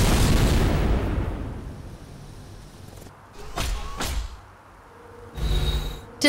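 Orbital strike from the Planet Carver in Civilization: Beyond Earth, a heavy rumbling blast that fades slowly, followed by two sharp impacts and another burst, with pauses between the hits.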